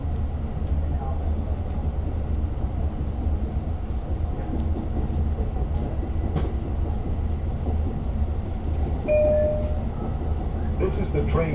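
Long Island Rail Road train running from Oyster Bay toward Jamaica: a loud, steady low rumble of the moving train with clatter and a brief squeal, heard from inside with talk over it.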